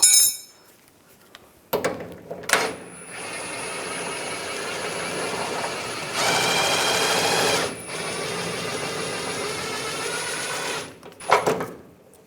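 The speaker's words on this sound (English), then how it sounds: "24mm socket, take the nut off." A power tool drives a 24mm socket to remove a rear lower control arm nut on a 2011-2018 Ram 1500, whirring steadily and loudly for several seconds with a rise in pitch midway, framed by clanking metal handling.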